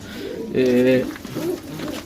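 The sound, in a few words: pigeons cooing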